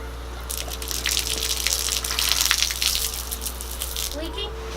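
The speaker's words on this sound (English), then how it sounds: "turn the water hose on, and make sure you leave it on this time" Water flowing from a garden hose at an outdoor water balloon filling station makes a steady broadband hiss and gush, close and fairly loud, with people talking briefly over it.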